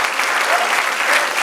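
Many hands clap together in a church during a sermon, an even, full-bodied burst of applause lasting just over a second, with a faint voice under it.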